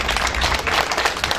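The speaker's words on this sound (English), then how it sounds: "Ladies and gentlemen, a round of applause for Mr." Audience applause at an evening awards ceremony after a politician, an alderman, is introduced; dense, steady clapping from a crowd close by, without a break, with no clear talk over it.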